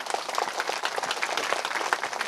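Audience applause at a Christmas sermon gathering, dense steady clapping from many hands filling the space, fairly close and continuous without a break.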